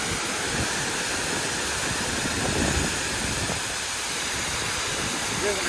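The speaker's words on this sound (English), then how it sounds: "There's a nice ass waterfall." A North Carolina waterfall roars as a steady, broadband rush of falling water, loud and unbroken, with the hiss filling the whole scene.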